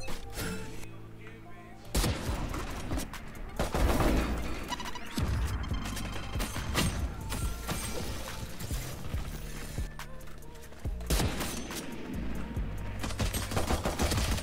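Dense, loud gunfire from the Valorant shooter game, rapid bursts and sharp shots in near-continuous volleys with brief pauses, over an otherwise busy game soundscape.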